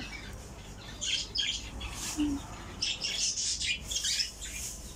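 Birds feeding, giving repeated high chirps and squawks in scattered bursts over a low background rumble, fairly close and moderately loud.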